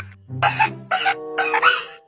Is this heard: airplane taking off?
no